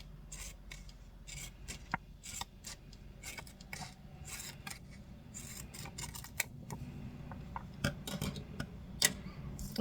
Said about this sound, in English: I'm just gonna cut some of this offset.